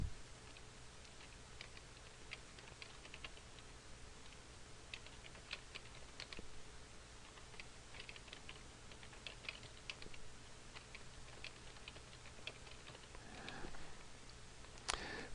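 Quiet, steady typing on a computer keyboard while entering row titles in an Excel 2010 spreadsheet, with soft rapid key clicks running throughout and a slightly busier flurry near the end.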